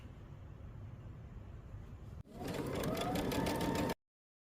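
A sewing machine stitches the side seams of a garment, starting after a quiet stretch and running in one steady, fast, close burst of about two seconds before stopping abruptly.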